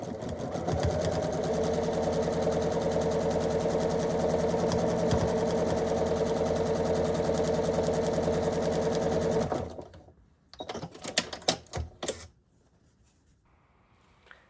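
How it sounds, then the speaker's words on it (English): Sewing machine stitching quilt block units together, a steady rapid mechanical whir running continuously for about nine seconds, then stopping, followed by a few brief clicks and rustles of fabric handling before quiet. "So here I'm sewing unit B to the left side of the main block"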